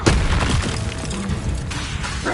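Bombarda spell explosion in Hogwarts Legacy, a loud booming blast with crackling debris that fills the whole short moment in heavy, continuous roar.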